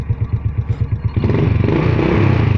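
A motorcycle engine cranks with a rapid rhythmic chugging, then catches and settles into a loud, steady idle close by.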